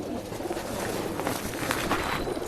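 Rekdhar pigeons kept for sale in Bangalore coo continuously at close range: several birds' soft, throaty, overlapping coos roll on without pause, with no talking.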